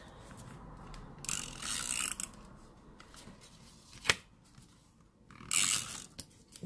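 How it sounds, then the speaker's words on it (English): Sticky tape is pulled from a roll and pressed onto the back piece of a paper craft, making a few quiet rasping tears in short bursts with a sharp click between them. "So now I am going to put more sticky tape on the back piece."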